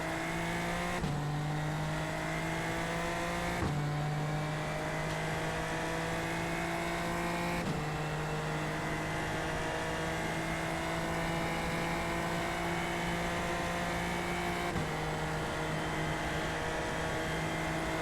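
A Super Formula Lights open-wheel race car in iRacing, lapping the Mexico City circuit, its engine screaming loud and close in long steady pulls. Sharp drops in pitch mark several upshifts, with no talk over it.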